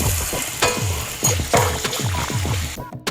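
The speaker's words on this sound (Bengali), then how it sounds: "এবার আমি খুব ভালো করে আগে মশলাটা কষিয়ে নিচ্ছি।" Spice paste with cumin and coriander powder sautés in a pan for mutton korma, a close, repeated scraping stir in quick strokes over a soft sizzle, ending in a brief clatter.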